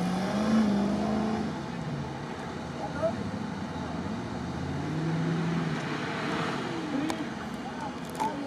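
A Lada Niva off-road car drives on sand during a timed off-road run, its engine a steady mid-distance drone under almost continuous talk from onlookers.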